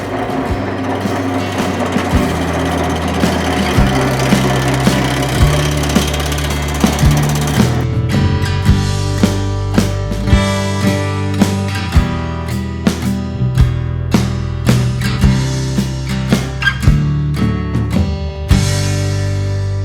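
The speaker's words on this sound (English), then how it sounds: "I'm just going to use my scraper just to get this" A lathe scraper trues up the surface of a heavily spalted magnolia bowl, giving a steady loud motor hum with continuous scraping and sharp ticking catches as the tool contacts the spinning wood.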